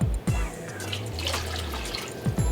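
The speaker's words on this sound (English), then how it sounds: "you're gonna add your cup of water" A cup of water is poured into melted butter in a pan for homemade caramel apples, giving a steady splashing, bubbling gush framed by brief clunks at the start and end, close and alone.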